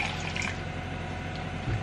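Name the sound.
fresh orange juice poured into a glass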